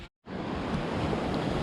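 A creek swollen after heavy rain rushes over a usual crossing point now fully underwater, a loud continuous broadband roar of fast-flowing water that starts abruptly after a brief gap and holds steady, close to the microphone.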